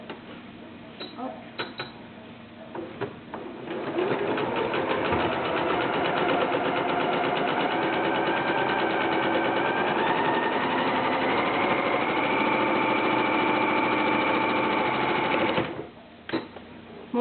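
A sewing machine running a zigzag stitch, 4 mm wide and 1.5 long, on a one-piece fabric mask: a few short clicks at first, then a steady, fast, loud mechanical whir for about twelve seconds that stops abruptly.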